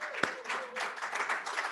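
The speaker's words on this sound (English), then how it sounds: "So they should get a round of applause for that." Audience applause for a graduating culinary training class at a ceremony, a sharp nearby clap followed by a scattered, moderate patter of clapping from a modest crowd.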